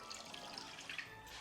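Half a litre of water running into a saucepan over sugar for a lemon-cinnamon syrup, a steady faint trickle with small drips, alone and without talk.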